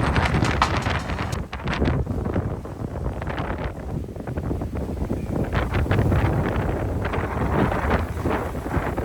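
Strong wind buffets the microphone aboard a sailboat off Lefkada, Greece. Constant loud rumbling gusts fill the whole stretch, with scattered crackles and no clear speech.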